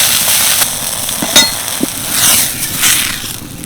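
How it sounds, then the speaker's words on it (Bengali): Oil and water sprinkled into a freshly cleaned hot kadai hiss into a steady, close sizzle, with a few brief sputtering pops breaking through. "এবার একটু তেল জল ছিটিয়ে দেব"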